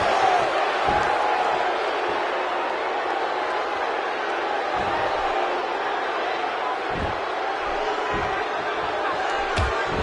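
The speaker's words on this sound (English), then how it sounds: "The crowd is buzzing." Broad, steady crowd murmur fills a virtual wrestling arena in WWE 2K17, holding a constant roar with a few sharp thuds and slams scattered through it.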